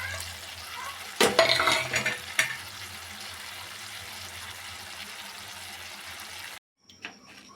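Ingredients fry in a pan for a chutney, giving a steady sizzle with a loud burst of stirring and scraping early on, then a sudden cut to near silence with a brief clatter.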